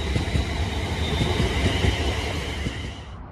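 Train with units 351109 and 35370 at Milton Keynes Central station, a loud, steady rumble and rush of wheels passing close by, fading at the end.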